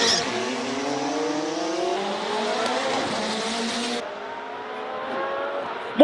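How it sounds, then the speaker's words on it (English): A Ferrari 488 GT3 race car launches up a hill climb course at a speed event, its engine note climbing through rising harmonics with a faint tire squeal, loud and close, then shifting and easing as the car pulls away. "Marcel Angel, Ferrari 488 GT3. Not burning it as much as he did earlier."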